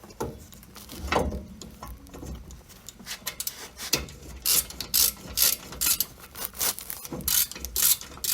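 A hand ratchet clicks as it backs a bolt out of the steering on a Jeep Cherokee, with bursts of rapid pawl clicking and metallic handling noises close by, no voices.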